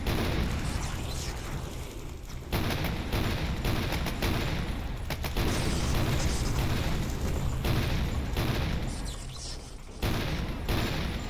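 Air denial weapon in Guncaster firing repeatedly, loud sustained bursts of rapid, crackling blasts with brief gaps between salvos, close and dominant over the game's other effects.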